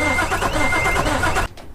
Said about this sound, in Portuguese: I'm going to stop the motor